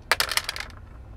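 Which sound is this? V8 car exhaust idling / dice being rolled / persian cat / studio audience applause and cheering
dice being rolled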